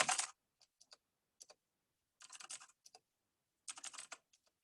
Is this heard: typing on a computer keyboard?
yes